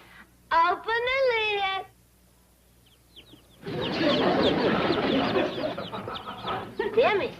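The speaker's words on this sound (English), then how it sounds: "Them is chicks." Chicks in a box let out a chorus of wavering, high-pitched peeping and cheeping cries, which return after a pause as a dense, busy clamor. In a classic Western sitcom setting, the birds sound close and lively.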